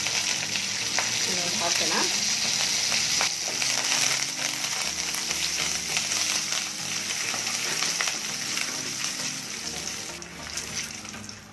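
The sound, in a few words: mustard seeds, cumin, curry leaves, red chillies sizzling in hot oil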